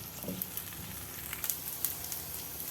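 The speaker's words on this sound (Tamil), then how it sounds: "நறுக்குன இஞ்சி பூண்டை போட்டு அதையும் வதக்கிக்கலாம்." Chopped ginger and garlic sauté with softened onions in a pan, giving a faint, steady sizzle and crackle with a few small pops, close and quiet.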